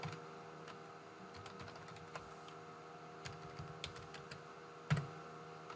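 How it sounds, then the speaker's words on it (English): Soft, quick keyboard taps in irregular bursts over a quiet room hum, with one slightly louder keystroke near the end. "as you are typing things in"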